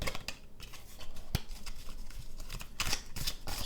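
Tarot cards are shuffled close up with soft, quick riffling and papery slaps in short uneven bursts, a sharper snap near the middle, and a small clattery flurry toward the end, with no talking.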